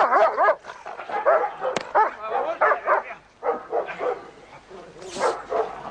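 A German shepherd police dog barks in the Barcelona metro: a rapid string of loud, close barks and higher yips, each short burst following the last with little pause.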